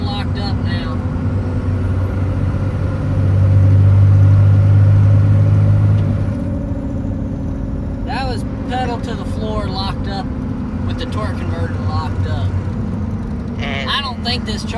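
A 1999 24-valve Cummins diesel truck easing uphill at about 1,600 RPM and 55 mph gives a steady low engine drone and road rumble that swells briefly, with someone talking over it in the second half.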